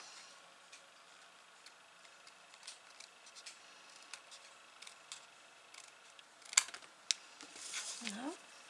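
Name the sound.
cutting cardstock around the outline with scissors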